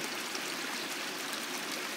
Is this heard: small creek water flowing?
yes